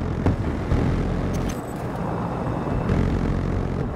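Helicopter rotor and engine noise in the video game Battlefield 2042, a loud continuous mechanical drone with low-end rumble that stays steady throughout, with brief clicks and game effects on top.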